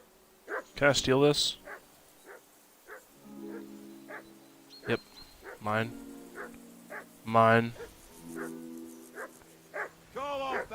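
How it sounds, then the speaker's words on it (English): In the medieval video game Kingdom Come, a dog yips, barks and whimpers in short bursts between spoken lines of dialogue, close and moderately loud. "Call off that damn dog before he walks down the last of our mates."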